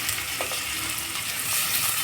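Onion frying in hot oil for a mutton curry, a short burst of steady close sizzling with faint stirring.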